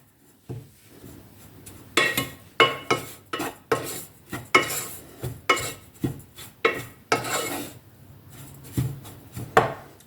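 Chili powder is stir-roasted in a pot at home, a metal spoon or spatula scraping and knocking against the pot in quick irregular strokes, close and clear.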